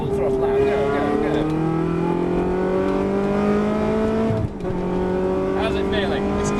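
A Ferrari on the Silverstone circuit accelerates at full throttle, its engine note rising steadily through the revs with a brief dip for a gear change, loud and close from inside the car.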